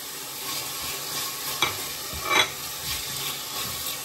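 Grated onion frying in a pan: a continuous close sizzle with occasional spatula scrapes and small clinks, and no voices.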